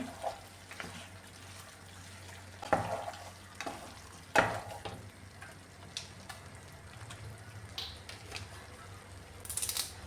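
Chicken roast ingredients are stirred and mixed in a pan: scattered spoon scrapes and knocks land at irregular intervals over a faint, continuous sizzle.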